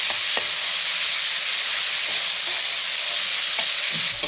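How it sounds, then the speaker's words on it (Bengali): Chicken pieces frying in hot oil for a pasta dish give a steady, loud sizzle that runs through the whole stretch, with a few faint clicks of stirring and no voices. "চিকেনগুলো ভাজা হয়ে গেছে খুব সুন্দর একটা স্মেল বের হয়েছে"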